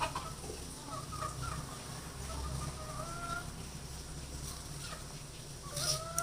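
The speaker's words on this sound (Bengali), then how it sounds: "ওখানে মুরগি আছে" Chickens cluck repeatedly in a village yard, a steady stream of overlapping clucks and short calls at moderate distance with no talking.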